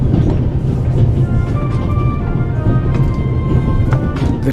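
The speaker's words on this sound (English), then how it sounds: "The train covers a distance." In the video game The Raven, a train rolls along the rails with a loud, steady rumble and faint clickety-clack, and thin whistling tones drift above it.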